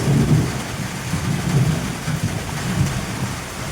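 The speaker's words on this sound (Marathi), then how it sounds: "पाऊस बघा किती पडायला लागला" Heavy rain pours down in a dense, steady roar, with low rumbling underneath.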